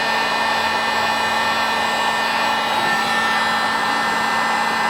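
Heat gun blowing hot air to shrink solder-filled heat shrink tubing over a wire joint, a steady loud roaring whoosh that holds unchanged throughout with no voices.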